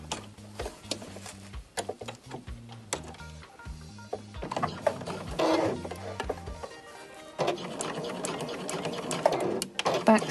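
A sewing machine fitted with a zipper foot stitches along the edge of a zipper, running in quick rhythmic bursts of needle chatter with short pauses between runs, close and clear.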